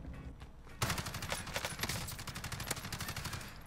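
Gunfire in the video game Warzone: after a quieter opening, rapid automatic bursts break out, dense and loud sharp cracks in quick succession that keep going to the end.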